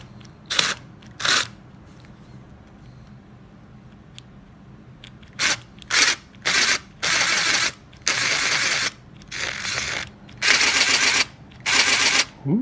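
A worn, partly repaired Milwaukee impact driver spins in repeated short bursts, whirring and rattling as it flings debris, with quiet gaps between runs.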